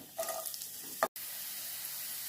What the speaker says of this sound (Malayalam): അതിലേക്ക് നമ്മൾ ഒരു മീഡിയം സൈസ് സവാള ചെറുതായി കനം കുറച്ചരിഞ്ഞത് ചേർത്ത് കൊടുക്കാമേ